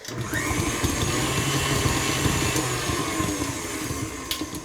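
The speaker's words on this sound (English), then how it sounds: "I'm going to use my stand mixer, and I'm going to put it on to low just to cream my butter briefly" A stand mixer runs on low speed creaming butter for cookies, a steady close motor whir with a continuous low hum and a faint higher whine, with no one talking.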